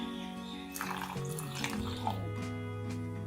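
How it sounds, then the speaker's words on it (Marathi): A small amount of water is poured from a container onto baking soda and rava dosa batter, giving a soft, steady trickle with light splashing close by for about three seconds, with no talking. "हे थोडं पाणी टाकायचं सोड्यावरती"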